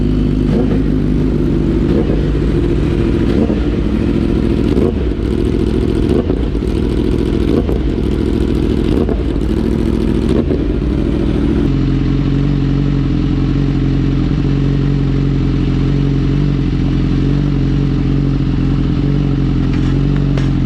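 Motorcycle engines idle and rev loudly and continuously in a trackday paddock while bikes are unloaded and set up, a steady close engine drone with some clatter and surges in the first half.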